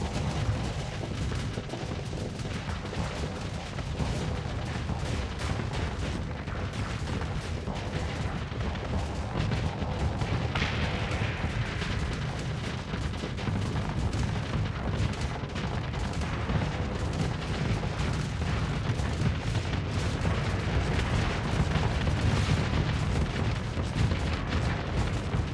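Dense, continuous barrage of ship weapons firing bullets in a Starsector space battle, a steady rapid crackle of shots and booms running unbroken throughout, with no talk.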